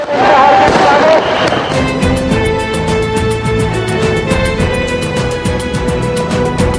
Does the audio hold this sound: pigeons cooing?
no